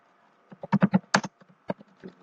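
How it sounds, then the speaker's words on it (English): Fingers typing on a computer keyboard, a short run of crisp, close key clicks in an uneven rhythm with a few louder taps, heard alone in a quiet room. "Let me type that out."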